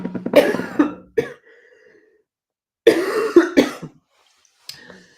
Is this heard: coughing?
yes